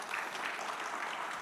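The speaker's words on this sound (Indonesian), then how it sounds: "Tepuk tangan buat kita semua." Audience clapping at a workplace safety culture event, a steady even wash of many hands across the short stretch, moderately loud with no voices.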